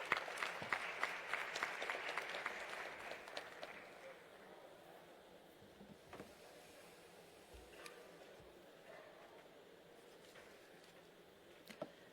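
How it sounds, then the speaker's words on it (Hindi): Audience at a Rajasthan tourism conference applauding to welcome a speaker, with crisp claps that are brisk at first and then thin out and fade to scattered hand claps in a large hall. "आप सभी की तालियों की गूंज के"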